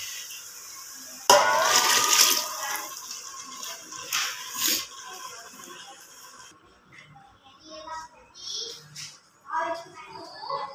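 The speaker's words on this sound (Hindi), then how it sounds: "अब इसमें डालेंगे पानी" Water is poured into a pan of cooking black chickpeas, making a sudden loud splash and sizzle that fades into gentle bubbling, with a voice talking over it.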